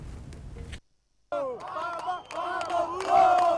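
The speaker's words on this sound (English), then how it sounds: "The youth who were chanting pro-NASA and ODM slogans destroyed Jubilee campaign materials" A crowd of youths at a Kenyan political campaign stop chants slogans, a loud massed roar of voices that breaks off briefly and then swells again with shouting.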